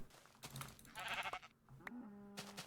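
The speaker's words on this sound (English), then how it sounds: "Oh, brown sheep." A sheep bleats in a Minecraft-style multiplayer survival game, a couple of wavering bleats mixed with game sound effects, close and moderately loud with no speech.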